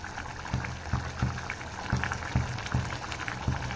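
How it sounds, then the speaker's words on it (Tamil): A pot of lentil ball curry bubbling at a steady boil, with low popping bursts recurring every half second or so over a constant simmering hiss. "நம்மளோட குழம்பு கொதிக்க ஆரம்பிச்சிருச்சு"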